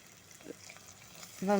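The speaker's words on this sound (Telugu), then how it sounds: "కొద్దిగా ఫ్రెష్ కరివేపాకు వేసి ఫ్రై చేయాలి" Dried red chillies and fresh curry leaves frying in oil for a meal maker tomato curry, a soft crackling sizzle that ends as a voice starts speaking.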